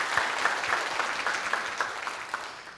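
A church congregation claps together during a founding-anniversary Sunday worship service, a steady, dense round of applause held at an even level throughout.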